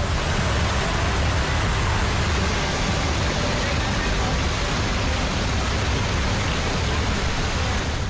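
Heavy monsoon rain floods the town of Agar Malwa, a dense, unbroken hiss of downpour and rushing water holding steady and loud throughout, with no clear gaps.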